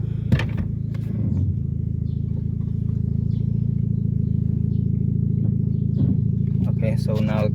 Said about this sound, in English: that engine just jumps so much because it's missing that lower torque mount.